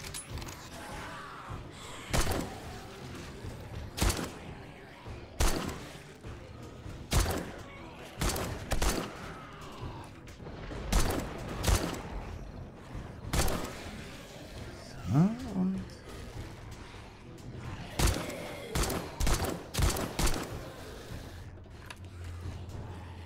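Single gunshots ring out from a 7 Days to Die session, sharp cracks spaced every second or two over a long stretch, with someone talking between and over them.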